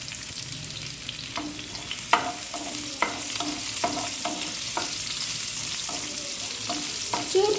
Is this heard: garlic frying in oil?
yes